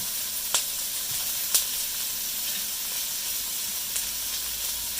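Baby corn and mixed vegetables fry in a pan with a steady background sizzle, broken by a few sharp pops and crackles, without any talking.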